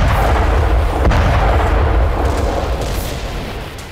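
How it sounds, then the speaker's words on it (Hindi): Explosion of a weapons depot in Crimea, a heavy, loud rumbling blast with dense low roar sustained and slowly fading over a few seconds. "क्रिमिया में रूस ने एक यूक्रेनी हथियार डिपो के परखच्चे उड़ा दिए।"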